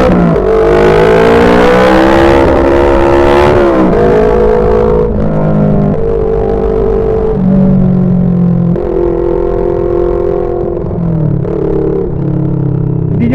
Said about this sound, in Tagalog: nagpalit ako ng tambucho. So sobrang lakas ng tambucho, hindi nyo na maririnig